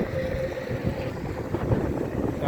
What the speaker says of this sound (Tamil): செம்ம காற்று அடிக்குதுங்க